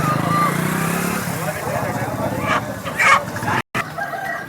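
Roosters crow at a busy Sunday rooster market in Vijayawada, with drawn-out calls and clucking set against a constant crowd murmur, a motor running and people talking nearby.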